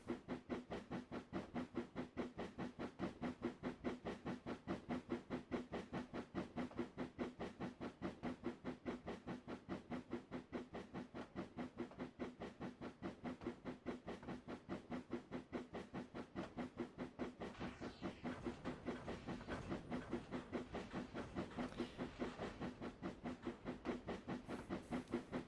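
Wisbech & Upwell steam tram running in the Trainz 19 railway simulator game: a steady, fast, even chuffing beat with a faint hiss, continuing alone without pause and without talk.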